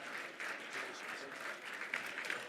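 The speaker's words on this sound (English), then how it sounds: "Give yourselves all a big round of applause." An audience at a charity gala claps warmly, a steady patter of many hands heard from a moderate distance.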